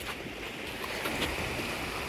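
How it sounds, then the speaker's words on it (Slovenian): Small waterfalls on a stream beside a lake on an easy walk near Samobor, a steady broadband rush of falling water, close and continuous without pause, with no voices over it. "Slapići mali."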